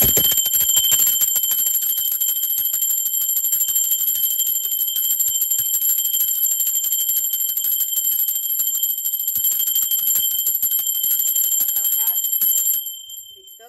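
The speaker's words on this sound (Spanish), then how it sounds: "Ahora sí, va campana, ser divino." A bell rings with a sustained high, shimmering tone and rapid repeated strikes for about twelve seconds, then stops abruptly and fades.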